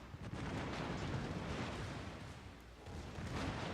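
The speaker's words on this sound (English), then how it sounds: "This guy's shooting AP, he could hit the cheek." Naval gunfire from warships firing armour-piercing shells in World of Warships Legends, a continuous heavy rumble of booms and blasts at low volume, with no speech.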